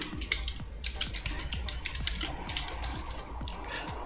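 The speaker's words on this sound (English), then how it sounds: "My typing." Rapid, steady clatter of keys typed on a computer keyboard during a gaming discussion, with dense close-up clicks running continuously and no talk over them.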